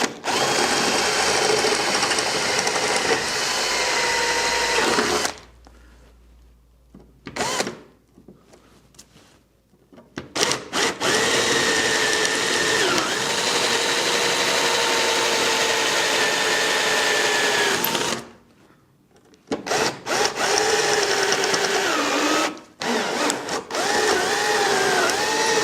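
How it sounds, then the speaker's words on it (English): A cordless power drill whines loudly in long, steady bursts while boring holes during a Land Rover 4x4 overland camper build, pausing between runs and restarting, the motor pitch sagging slightly as the battery weakens. "Upsizing the drill."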